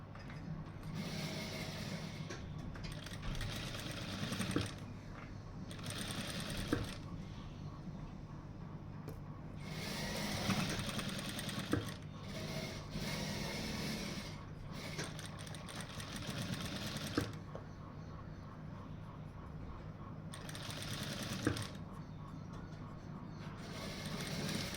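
A sewing machine stitches fabric along piping in bursts of rapid mechanical chatter, pausing briefly between runs, close and steady with no talking.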